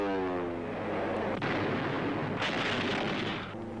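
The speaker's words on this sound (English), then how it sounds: "the fleet throws up a barrage of anti-aircraft fire" A Soviet Black Sea Fleet anti-aircraft barrage against attacking bombers near Sevastopol roars as loud, dense, overlapping gunfire, with sharp bursts breaking through a continuous thundering wall of noise.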